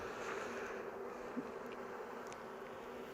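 Honeybees hum steadily around an opened hive frame, a continuous close buzzing drone with small fluctuations and no voices.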